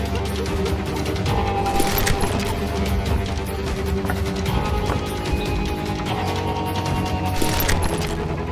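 Gunfire in a street in the Call of Juarez game, a steady clatter of scattered shots and impacts over background music, moderately loud and continuous.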